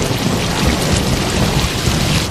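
Heavy rain pours down continuously in a thunderstorm, a dense, loud, steady roar of drops with low rumbling underneath and no voices.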